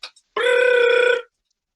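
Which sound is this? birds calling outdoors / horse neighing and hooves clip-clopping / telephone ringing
telephone ringing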